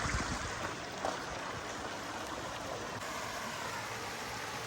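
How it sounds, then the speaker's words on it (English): A flowing creek along a hiking trail in Los Padres National Forest, past granite formations, with steady broadband rushing water close by and no voices. "Here you could just admire the sounds of the creek."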